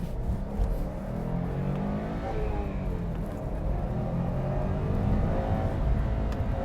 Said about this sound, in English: I will now attempt to move. I'm revving needlessly.